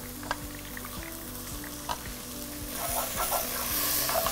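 Onions sweat in a dry pot with no oil, a soft sizzle and light crackle under occasional stirring scrapes, quiet and close, with the hiss growing fuller toward the end.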